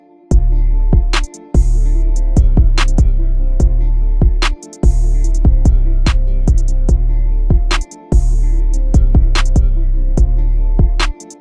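A looping trap beat with deep booming 808 bass hits and plucked guitar notes, punctuated by sharp percussive snaps, repeating in short cycles with brief gaps.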